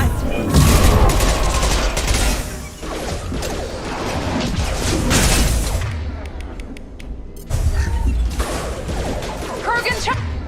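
Rapid bursts of sci-fi gunfire and impacts in the Mass Effect 2 combat game, loud and dense, mixed with mechanical clanks, crashes and a whoosh, with a short lull midway before firing resumes.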